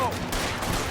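Gunfire in the video game L.A. Noire, a short dense burst of shots filling one second at steady loudness, with voices faintly mixed in.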